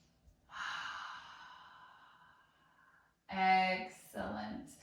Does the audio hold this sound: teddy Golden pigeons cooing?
no